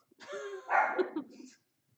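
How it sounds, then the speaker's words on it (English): A single dog gives a short, fairly close bark-like yelp lasting about a second, then silence. "Dog barking."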